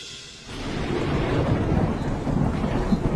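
Rolling thunder rumbles over steady rain in a rural village, heard from a raised bamboo house above a taro field, with a low booming swell and constant downpour hiss and no speech.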